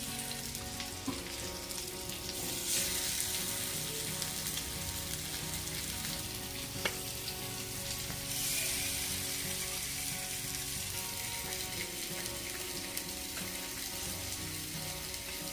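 Surmai fish fries in a little oil in a pan, giving a continuous crackling sizzle at moderate level with occasional pops and slight swells.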